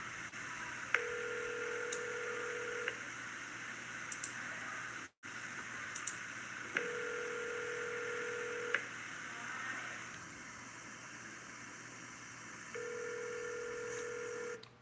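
Over a phone line, a call to the Fulton Police Department in Kentucky rings out with three long buzzing tones separated by pauses, amid faint line hiss and small clicks.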